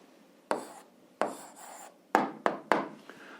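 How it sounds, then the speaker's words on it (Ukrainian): Pen or marker strokes writing out the answer to an eighth-grade algebra exercise, five or six short scratchy bursts with sharp starts, the last three coming quickly one after another, close and fairly quiet with no talk. "Зараз записуємо відповідь, пишемо відповідь"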